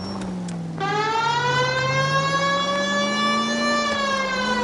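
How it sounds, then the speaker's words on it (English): Police car siren in a video game, a loud, close electronic wail that starts after a short burst and holds a steady rising and falling tone over continuous engine rumble. "People might move out of the way quicker if you use the siren."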